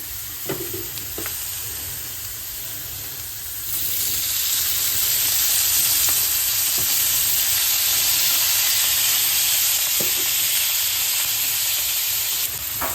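Fish grilling with oil in an old pan gives off a soft sizzle that swells into a louder, continuous hissing fry, with a few faint clinks along the way.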